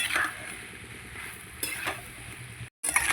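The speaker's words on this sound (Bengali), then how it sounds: "মাছগুলো দিয়ে ভালো করে কষিয়ে নেব একটু সময় নিয়ে কষাবো" Pieces of fish sizzle softly in a pan while being stirred and turned, a low continuous frying hiss with a few louder scraping bursts and one brief dropout.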